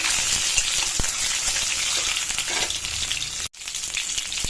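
Eggs fry in a hot pan with a steady, dense sizzle that hisses loudly and continuously, broken by one brief dropout near the end.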